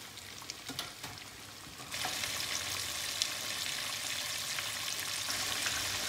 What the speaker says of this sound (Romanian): o prăjim la foc încet, la foc mic, pe toate părțile